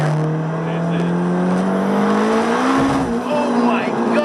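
Turbocharged Honda S2000 pulling hard in second gear, a loud close engine drone rising steadily in pitch over several seconds, with talk over the top.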